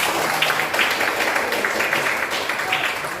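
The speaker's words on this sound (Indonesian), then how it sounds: "Oke, tepuk tangan dulu dong." A classroom group claps together in a dense, continuous burst of applause that stays fairly even for a few seconds.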